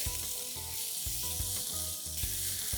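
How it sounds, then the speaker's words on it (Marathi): Onions sautéing in a pan with salt: a continuous close sizzle and hiss with a few soft stirring knocks, steady and even throughout, no voices. "थोडंसं परतून घ्यायचंय"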